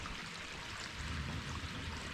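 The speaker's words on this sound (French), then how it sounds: "Petite cascade au fond." A small waterfall spills into a pool, a steady even rush of water with a slightly heavier low splash partway through, continuous and fairly close.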